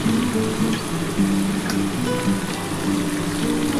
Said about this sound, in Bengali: মশলার জলটা দিয়ে দিলাম